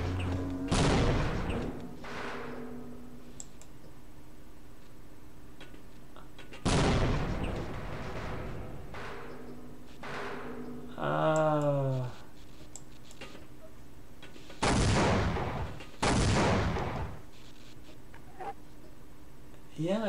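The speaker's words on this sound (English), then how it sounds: "I feel like the game is telling me to just throw grenades" Grenade explosions in Half-Life: four loud, broadband blasts, each with a short rumbling tail, spaced several seconds apart, with a brief squawking creature call between them and a low game hum underneath.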